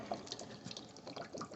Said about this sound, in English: let all your water drain out, because you have to make sure every bit of that water is out